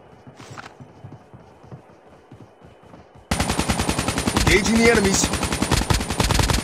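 Rapid automatic gunfire from a Halloween-skinned NP45 in Call of Duty Mobile, loud and continuous in the second half after quieter in-game footsteps and ambience, with a voice speaking briefly.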